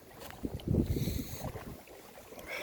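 Harsh cold wind at an outdoor winter swimming place, blustery rumbling gusts hitting the microphone close up, rising and falling over a few seconds.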